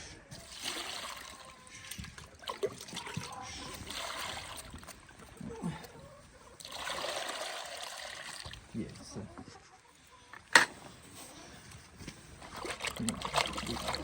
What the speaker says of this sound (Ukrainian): Наливаю холодну воду.